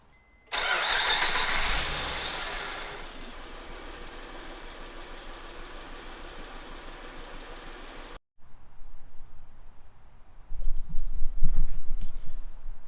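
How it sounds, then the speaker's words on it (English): A Honda Ridgeline pickup truck engine cranks and fires with a loud rush, then settles into a steady idle; after a brief cut, the engine runs again with a rougher, rising rumble close by. "Let's turn the truck back on and check what the level is now."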